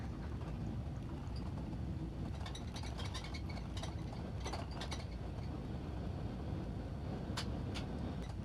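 Simulated Embraer E170 airliner applying reverse thrust during landing rollout in X-Plane 11, a steady broadband roar of engine and rushing air with faint rattling mechanical clicks, continuous and fairly loud without speech.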